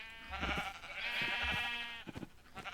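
Sheep in the video game Minecraft give two or three wavering bleats in a row, close and fairly loud, separated by short pauses and followed by a few soft clicks, with no talking.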